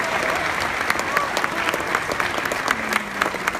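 An audience applauds award recipients at a recognition event, a dense, sustained clapping from a large crowd with scattered louder claps and faint voices mixed in, steady from start to finish.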